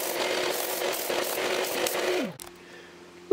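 A steady whirring power sander grinds against wood for a couple of seconds, then winds down, leaving a quieter hum and a small knock.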